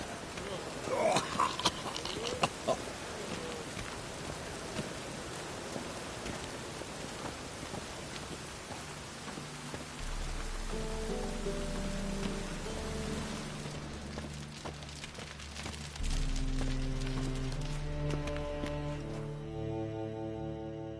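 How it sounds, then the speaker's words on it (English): Steady rain falls in the game The Witcher 3 Wild Hunt on PS4 Pro, a continuous hiss with a few louder drops early on, while low musical drones and soft game music swell beneath it. "Looks like rain."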